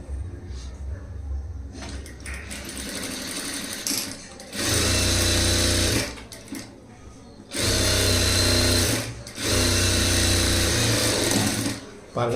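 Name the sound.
sewing machine stitching a line on blouse fabric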